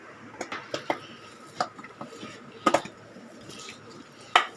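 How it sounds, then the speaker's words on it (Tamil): Plain paratha dough, made without oil or salt, being kneaded firmly by hand in a bowl, giving soft irregular thumps and squishes with a few sharper knocks of the bowl, close and moderately loud. "இப்போ இதை நான் பசைஞ்சிக்கிறேன் ஒரு அஞ்சு நிமிஷம் நல்லா அழுத்தம் கொடுத்து பசைஞ்சிக்கலாம்"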